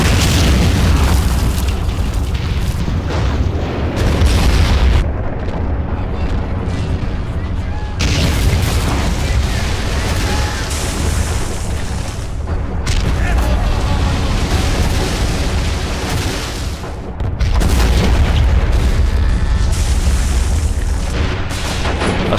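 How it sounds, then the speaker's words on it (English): Repeated heavy artillery shelling booms in Men of War: Stalingrad, with deep blasts rolling one after another and loud explosions dominating the mix, while a voice talks intermittently underneath. "I'm going to have to continue pounding away with the artillery"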